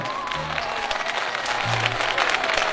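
Festival audience applauding at an outdoor Sivas Kangal festival concert in Turkey, a steady broadband wash of clapping that holds throughout and grows slightly louder toward the end.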